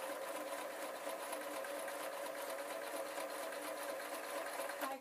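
Sewing machine stitching leatherette around the curved toe of a shoe, running as a steady, close, continuous mechanical whir with fine rapid stitch pulses and no pauses.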